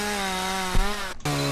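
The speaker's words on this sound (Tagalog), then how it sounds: "is that a chainsaw?" Droning chainsaw in the horror video game Curse Digicam, a steady buzzing engine tone that dips briefly near the end, then picks back up, loud and close with no voices.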